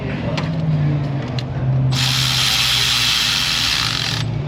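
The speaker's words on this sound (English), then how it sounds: "Now I'll see if we can get that bolt in there." A ratchet works on a bolt on a car engine in a repair shop, clicking under a steady engine hum, then a loud hiss of air joins and holds to near the end.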